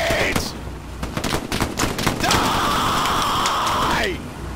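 Rapid bursts of gunfire and booming grenade blasts in the World War II shooter game Hell Let Loose, dense and close, followed by a sustained tone and a shouting voice over the combat.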